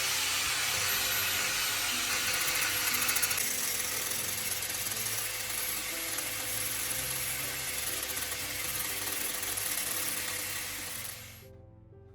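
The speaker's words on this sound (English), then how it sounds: "Reinsert the spark plug into the drill and use a grinding tool to sharpen the tip of the" Grinding tool sharpening the electrode tip of a spark plug held spinning in a drill, a steady loud high-pitched whine and grind running continuously, cutting off near the end.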